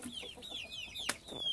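Chickens cluck and chirp in a henhouse, several hens and chicks calling in quick overlapping notes, close and moderately quiet.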